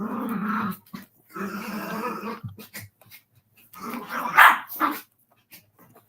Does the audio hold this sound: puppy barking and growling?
yes